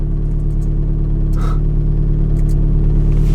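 A Volkswagen Golf R with a suspected fault accelerates in third gear, a loud steady engine drone and low rumble heard from inside the cabin, holding even throughout with a brief faint whine over it.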